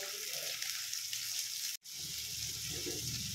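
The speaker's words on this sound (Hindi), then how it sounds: "और इसे ना गोल्डन ब्राउन होने तक फ्राई कर लूंगी।" Ginger, garlic and green chili with a pinch of asafoetida fry in a pan as a steady, close sizzle that runs for a few seconds, with one brief dropout in the middle, and no voices.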